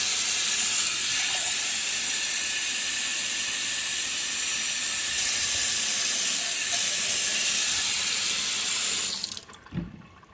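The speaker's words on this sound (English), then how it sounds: "And then we're also going to be adding 2 cups of water to this." Two cups of water pour into a pan for zucchini relish, a loud continuous rushing stream from a tap that runs steadily for about nine seconds before cutting off, followed by a faint clunk.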